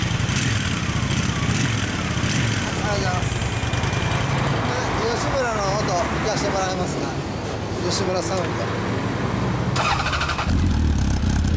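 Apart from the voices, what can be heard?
Honda CB1300 Super Four motorcycle engine with Yoshimura exhaust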